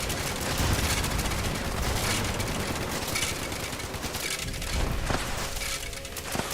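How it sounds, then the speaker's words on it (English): Dense, continuous bursts of gunfire and booming explosions in the video game Fallout 76, a loud chaotic barrage with overlapping shots and blasts throughout. "All those explosions make looting kind of problematic."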